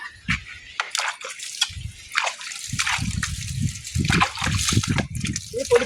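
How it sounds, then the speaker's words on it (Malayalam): Water poured into a pot of fish curry, a wet sloshing and trickling pour in irregular bursts, fairly close, with kitchen clatter and other noises mixed in. "ഇതിൽ കുറച്ച് വെള്ളം കൂടെ ഒഴിച്ചു കൊടുക്കാം."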